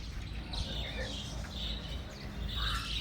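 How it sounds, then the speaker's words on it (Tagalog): Many birds, eclectus parrots among them, call outdoors with scattered high chirps and squawks over a faint, steady background hum. "Mga birds. Daming birds, bay."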